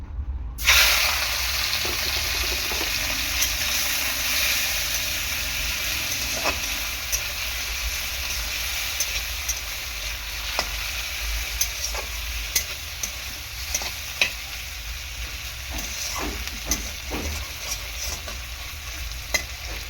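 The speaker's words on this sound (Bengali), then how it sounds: "চিংড়ি মাছটাকে ভালো করে ভেজে নেব।" Peeled shrimp frying in hot oil give a loud, steady sizzle that stays close and even for about twenty seconds, broken by occasional light stirring clicks, with no talking.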